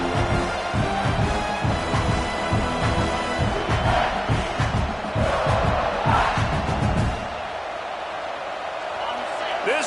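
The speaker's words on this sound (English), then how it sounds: "This crowd bringing the energy and noise early." A college football stadium crowd roars after a defensive sack, a loud broad cheer with rhythmic chanting and stomping pulses that holds for several seconds, then drops to a lower murmur.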